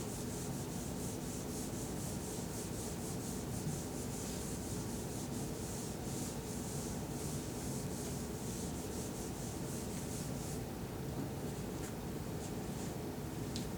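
A board is rubbed clean with steady, continuous scrubbing friction, a close, even rasping that runs without a break at low volume.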